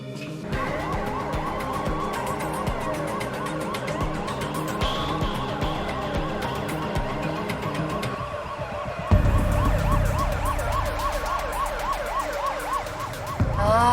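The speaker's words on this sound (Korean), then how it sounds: "아 진짜 사이렌" Emergency vehicle siren wailing in a rising and falling pattern on a Seoul expressway, loud and steady throughout, with a heavy engine rumble joining in the second half.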